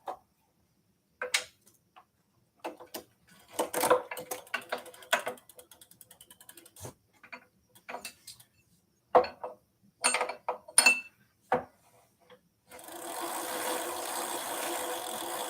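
Pedal wrench tightening the pedal on a Himiway Big Dog e-bike, a series of irregular ratcheting clicks and metallic clinks separated by pauses, followed by a steady low hiss at the end.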